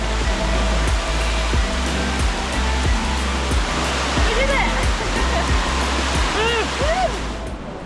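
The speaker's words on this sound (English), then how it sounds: "you can already feel the mist and the moisture in the air from the waterfall because it's so powerful" Powerful waterfall at Tumpak Sewu in Indonesia, a loud, steady roar of falling water filling the whole clip, with faint birdsong chirps and a few voices barely audible beneath the continuous rush.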